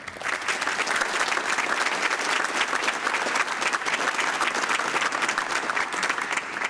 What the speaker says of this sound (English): maybe you join me in a round of applause for all these people who do this hidden work.